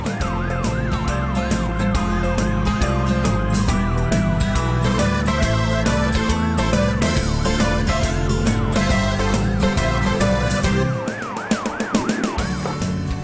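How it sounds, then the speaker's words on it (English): An ambulance siren wails up and down steadily, loud and continuous over a dense rumbling background, dropping briefly near the end. "here comes an ambulance to check that the diver is okay"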